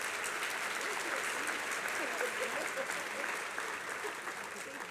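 Conference attendees at a 2018 n4a general session give departing board members a sustained round of applause, a thick wash of clapping that holds steady and eases slightly toward the end.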